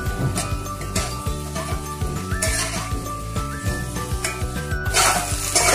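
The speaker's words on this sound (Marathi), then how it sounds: "आणि थोडे हे पनीरचे तुकडे मी आता थोडे फ्राय करून घेतले" Paneer pieces frying in a pan, with a steady sizzle and repeated clinks and scrapes of a utensil stirring and turning them, close and fairly loud throughout.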